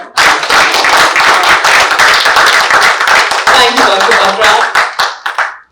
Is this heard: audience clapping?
yes